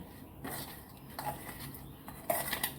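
Coriander salad being tossed with a pinch of salt in a dish, giving soft, irregular scraping and clinking of a utensil against the bowl in a few short bursts, close and quiet with no talking.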